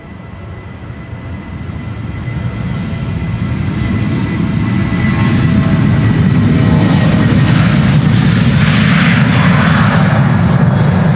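A Norwegian Boeing 737-800 departs Amsterdam Schiphol for Stockholm, its jet engine roar swelling steadily as the plane nears, turning loud and close with a rising whine near the end, heard alone without talk.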